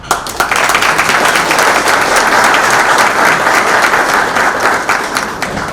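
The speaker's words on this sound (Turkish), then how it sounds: "sizin her birinizi alkışlıyorum" Loud, dense applause fills the room from an audience at a Bursaspor football club gathering, sustained and even throughout with no break, before fading slightly at the end.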